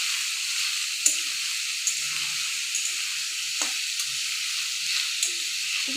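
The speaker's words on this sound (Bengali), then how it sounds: "এবার পুরো আলুটা দিয়ে দেওয়া হলো। এবার আস্তে আস্তে নাড়া হচ্ছে।" Potatoes sizzle steadily in hot oil in a pan, with faint scrapes and clicks as they are slowly stirred every second or so; the frying hiss is constant and close, with no talk.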